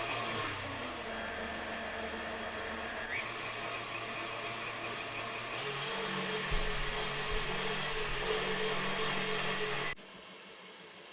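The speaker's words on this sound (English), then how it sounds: "while our KitchenAid stand mixer is mixing or beating our eggs and sugar" A KitchenAid stand mixer beats eggs and sugar for sweet potato cupcakes, giving a steady, loud motor whir with a beater hum. The pitch shifts partway through as the speed changes, then the whir drops sharply near the end.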